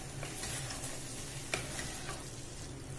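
Beef being stirred into a pan while cooking beef pulao, with a quiet sizzle and soft scraping of the spoon, plus a couple of light clinks against the pan.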